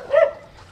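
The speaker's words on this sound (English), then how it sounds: "some dogs over here." A single short dog bark or yip rings out outdoors after rain, moderately close and brief, with no one talking.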